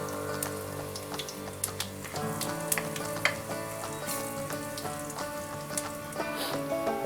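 Garlic and a pinch of asafoetida sizzle steadily in hot oil for a vegetable bhaji tempering, a continuous close crackle with scattered sharp pops throughout.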